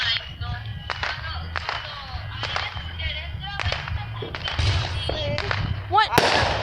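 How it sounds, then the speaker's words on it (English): Fireworks crackle and pop outside in a rapid, irregular string of sharp bursts, with the scattered reports continuing steadily while people talk excitedly nearby. "There's just a lot of fireworks."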